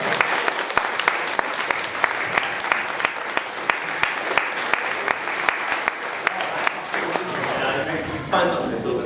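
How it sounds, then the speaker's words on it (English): Loud, steady audience applause at a Star Trek Continues convention panel, many hands clapping with sharp individual claps standing out, tapering off near the end as the room settles. "Give this guy a round of applause."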